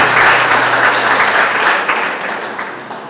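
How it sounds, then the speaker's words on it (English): Loud, sustained audience applause at a political party constituency conference, dense clapping that gradually tapers off over about three seconds. "Give her a round of applause, please."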